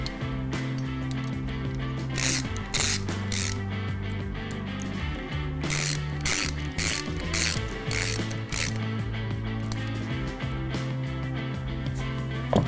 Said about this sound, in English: So we'll grab this wrench that comes with the kit and we'll just snug these up a little bit more